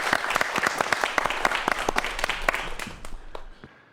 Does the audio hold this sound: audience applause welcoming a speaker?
yes